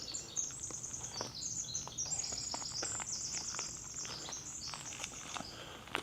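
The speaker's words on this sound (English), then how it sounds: "identify by sound that that was a Pacific wren" A Pacific wren sings along a mossy forest trail near Prince Rupert, giving a long, rapid, high tinkling trill of chirps, faint and steady against quiet woodland ambience.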